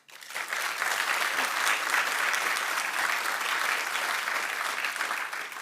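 Sustained, dense applause from a large audience at a Montgomery County event for the governor, steady and loud throughout with a brief fade at the very end.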